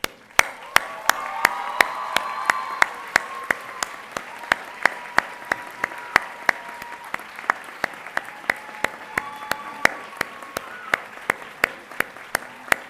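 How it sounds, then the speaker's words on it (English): Staff and faculty receive a standing ovation at a college graduation ceremony, with sustained crowd applause carrying sharp, regularly spaced claps that stand out over it. "can we give a standing ovation to the staff and faculty?"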